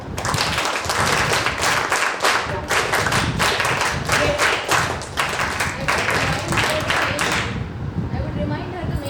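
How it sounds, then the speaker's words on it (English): A group in a session on women in leadership claps together, giving a dense burst of applause that runs steadily for several seconds, with voices mixed in, then cuts off into quiet room noise. "Clap."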